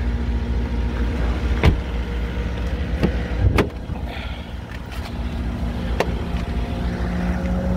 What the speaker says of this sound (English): Excuse the motorbike going by.